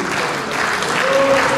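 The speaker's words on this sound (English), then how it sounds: "I want you to give him a round of applause." Audience applause at a university dinner, a dense steady clatter of many hands clapping together throughout, fairly loud and close, with a faint crowd murmur underneath.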